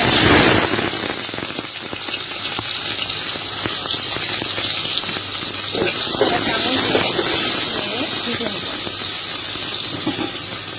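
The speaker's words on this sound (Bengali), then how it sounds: "এই তেলেই আস্ত জিরা ফোড়ন 1 চা চামচ মতন দিয়ে দিব" Whole cumin seeds sizzle in hot oil for a pabda fish curry, a loud, continuous hiss like heavy rain that holds steady throughout.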